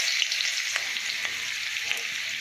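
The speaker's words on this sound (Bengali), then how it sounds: "শাক ভাজাতে একটু রসুন দেবো" Garlic fries in hot oil in a wok with a loud, steady hiss and crackle, dotted with a few small pops and taps from stirring.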